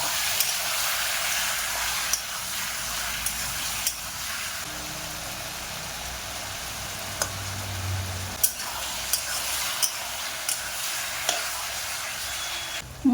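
Cucumber, potato and prawn curry fries in a pan, a soft continuous sizzle with occasional light scrapes and taps of a spatula, fairly quiet and steady, without talk.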